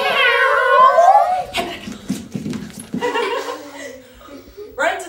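Children imitate a cat's meow with a loud, drawn-out, wavering vocal meow that dips and rises, followed by chatter and chuckling voices.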